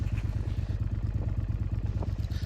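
A motorcycle fitted with a British Customs Predator Pro exhaust idles while a dB killer is fitted, giving a steady, even, low throbbing beat heard close up with faint metallic clatter.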